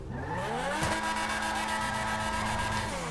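A turbocharged, modded car accelerating in GTA 5, its engine note climbing steadily through a brief shift, loud and close, with a hint of tire noise.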